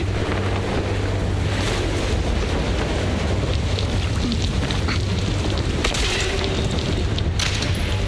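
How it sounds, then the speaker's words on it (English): Steady, loud wind roars across an open video game landscape, a constant broadband rush with gusty swells and a few brief bursts near the end, with no voices over it. "The wind. It's shifting."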